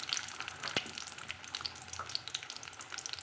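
Washed, dried red chillies sizzle and crackle in hot oil in a pan, a soft continuous frying hiss with one sharp pop near the start, fairly faint and close.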